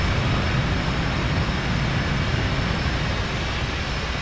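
F/A-18 jet engine spooling up on a carrier deck in DCS World, a loud, steady, broadband roar that holds constant throughout with no talk over it.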